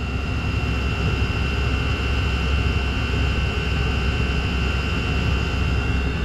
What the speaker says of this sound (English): Listen to it even. It sounds good. It's a nice steady burn.